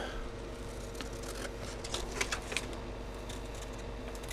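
Scissors trim a part for an Estes Hi Flier XL model rocket, making a few quiet crisp snips over a steady low hum, close by, with no one speaking.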